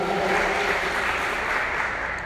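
A church prayer-group congregation claps in a dense, steady wash of applause that stays loud and continuous throughout.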